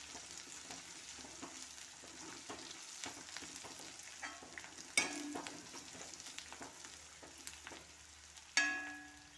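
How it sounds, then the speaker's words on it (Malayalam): Onions with kanthari chilies and curry leaves sizzle softly in a pan for crab curry, with quiet stirring scrapes and two sharp metallic clinks of a spoon against the pan. "ഇനി ഉള്ളിയൊക്കെ നല്ലപോലെ വഴണ്ട് വന്നിട്ടുണ്ട്"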